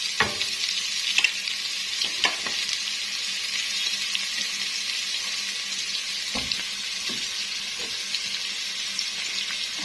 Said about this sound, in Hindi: अब ऑयल गर्म होगा तो इसमें हम डाल देंगे प्याज।